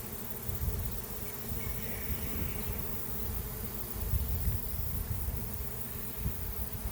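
A swarm of honey bees flies almost directly overhead near a peach tree, making a thick, continuous droning hum that rises and falls slightly as the insects move through the air.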